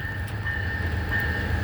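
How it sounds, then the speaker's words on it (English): Amtrak Auto Train 53 rolls southbound through Ashland, Virginia, a continuous low rumble of rail cars passing with a steady high tonal whine over it, fairly close and uninterrupted. "Looks like we got Amtrak 53 coming southbound."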